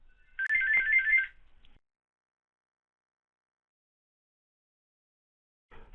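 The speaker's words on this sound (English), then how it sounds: "Sorry, my phone's going." A mobile phone ringtone rings once in a short, loud melodic burst during a quiet bridge match commentary, then cuts off into silence.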